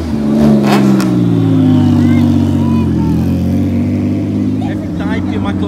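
A McLaren 12C sports car at a street car gathering, its engine a loud, close drone that rises as it accelerates past, with people talking over it.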